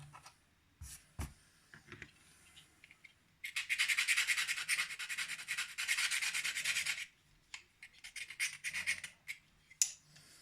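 A Spyderco Byrd Robin 2 knife is reprofiled freehand on diamond stones: a dense, loud run of rapid gritty rubbing strokes lasting a few seconds, framed by quieter scattered scrapes and taps.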